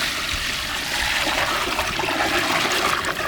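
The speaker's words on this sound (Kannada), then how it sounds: "ನೀರು." Water pours steadily into a pot of mutton leg biryani with yogurt and spices, a continuous splashing rush close by, alone without talk.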